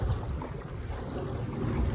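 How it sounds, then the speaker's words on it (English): Wind gusting outdoors straight into a phone's microphone, giving a continuous low, rumbling buffet with a rushing hiss on top that holds steady for the whole stretch, with no talking heard. "it's a little bit windy. I hope it don't blow the phone away."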